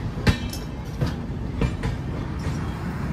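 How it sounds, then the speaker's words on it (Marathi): A passenger express train pulling out of a station near Delhi, with rhythmic wheel clacks over rail joints and a steady rumbling roll, heard from on board. "चला निघाली पण ट्रेन. लगेच निघाली."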